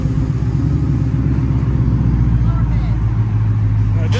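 A Ford Mustang GT fitted with new black wheels rolls slowly around in a small circle, its deep, steady engine rumble loud and close throughout, with people talking nearby.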